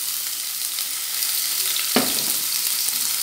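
Onions sautéing in about a tablespoon of oil in a pan, a steady broad sizzle close up with one brief stirring scrape midway.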